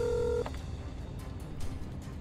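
A phone keypad tone sounds once, briefly and clearly, as an emergency number is dialed in a driving accident video game, followed by quiet background.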